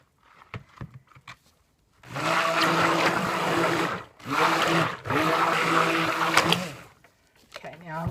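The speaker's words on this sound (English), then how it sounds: "burp my stick blender again" A stick blender whirs loudly through soap batter made with ground oatmeal and coconut flour for lavender lemongrass soap, running in two long bursts with a short pause between, after brief clatter at the start.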